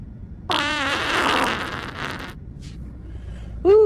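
A loud, long, buzzy fart lasting about two seconds with a wavering pitch, trailing into quieter rustle, followed by a short sharp second burst at the end.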